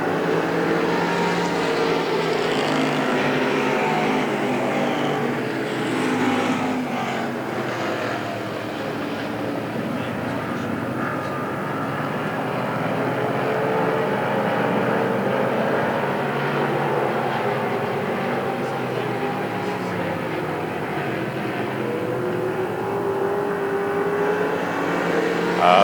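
Pure stock race cars roar around Hagerstown Speedway during an afternoon main event, a continuous loud engine drone that rises and falls as the pack passes, with no voices.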